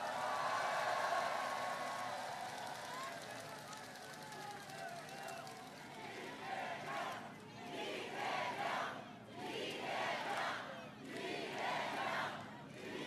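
A large crowd at a political campaign rally in Bupyeong, Incheon roars and cheers loudly at first, then the noise ebbs and surges in waves with scattered shouts, heard from a distance.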